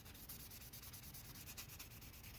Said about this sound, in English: just do a little sanding